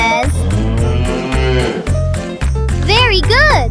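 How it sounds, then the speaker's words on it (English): A cow mooing in a farm animal lesson for children, a loud, drawn-out low call with shifting pitch, followed by higher bleat-like sounds near the end; speech is mixed in. "What sound does a cow make?"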